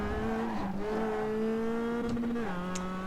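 A Mazda MX5 on worn tyres in the iRacing simulator drones at steady engine pitch through a drift, the tone holding then dropping as faint tyre scrub rides underneath.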